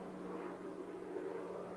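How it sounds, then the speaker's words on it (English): A helicopter flying over a lake, a steady distant engine and rotor drone holding at an even level throughout with no variation. "Helicopter."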